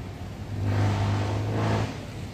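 Another truck passes on the road, its engine rising to a loud, steady low drone as it comes near, then fading back as it moves away.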